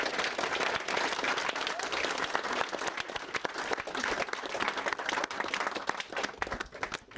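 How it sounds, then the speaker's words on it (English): Wedding guests applaud the groomsmen during the speeches, a dense, steady wash of clapping from a full room that carries on throughout, with some voices mixed in. "So yeah, round of applause to the groomsmen."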